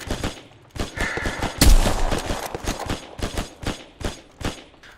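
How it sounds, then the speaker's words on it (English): Gunfire in Hell Let Loose, the World War II shooter, comes as rapid bursts of sharp close-range shots aimed at the player, with one heavy blast early on and repeated cracks continuing to the end. "He's shooting at me."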